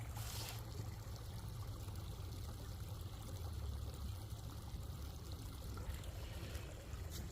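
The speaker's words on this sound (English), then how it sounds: "I just want to sit here and enjoy the babbling brook." A babbling brook trickles along a hiking trail at Notch Hill Brook, a steady broadband wash of running water with a low rumble, continuous and moderately close with no talk.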